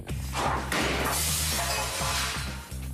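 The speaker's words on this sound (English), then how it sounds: "But still, alas, the sound of one glass breaking." A paintball fired at tempered glass makes it burst apart in a loud, close crash, followed by a spray of shattering fragments over a steady low hum.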